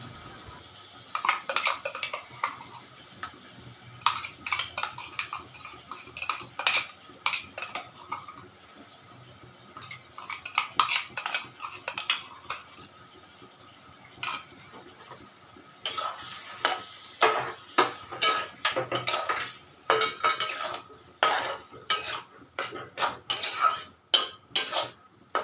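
Bottle gourd cooked with poppy seed paste is stirred again and again in a pan, giving rapid clustered clinks and scrapes of a utensil on metal in uneven bursts over a faint background.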